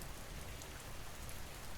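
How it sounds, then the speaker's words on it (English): Rain drums steadily and softly on a slate roof overhead, a dense even hiss with no single drop standing out. "He listened to the rain on the slates above his head."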